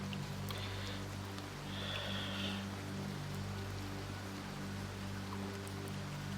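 Steady rain ambience, played as background during a tabletop role-playing session, gives a continuous wash of falling rain and patter on surfaces at low level, with faint brief tones near the start and no talking.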